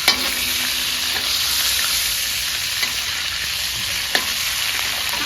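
Oil sizzles and crackles steadily in a pan, with occasional sharp clicks of a utensil stirring the food.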